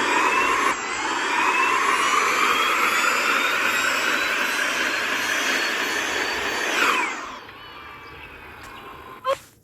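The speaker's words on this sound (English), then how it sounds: "So as you can tell, that was the sound of the icebreaker, which is the first season vehicle to sound like a Model 3" An icebreaker electric car in the Roblox Jailbreak video game, said to sound like a Model 3, gives a steady, loud whirring drone for about seven seconds that then fades and drops away, ending with a short click.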